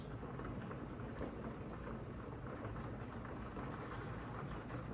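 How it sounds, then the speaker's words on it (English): Heavy rain pours steadily outdoors, a dense, even broadband wash that holds at a constant level throughout, close and fairly loud, with no voices over it. "it is definitely raining heavily today, so excuse the noise"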